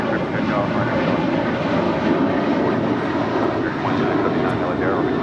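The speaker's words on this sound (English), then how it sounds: "Air Tahiti Nui, the Dreamliner heading back to Paris, heading up there for a north side departure" An Air Tahiti Nui Boeing 787 Dreamliner jet takes off from Los Angeles International Airport, a loud, steady engine roar that holds throughout, with voices talking over it.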